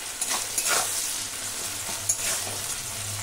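Tomato and onion with salt fry in a pan, a constant close sizzle broken by a few scraping strokes of a spoon stirring them.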